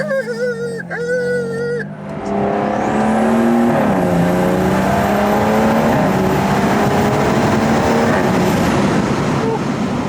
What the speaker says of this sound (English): Got a lot of turbo sounds going on right now.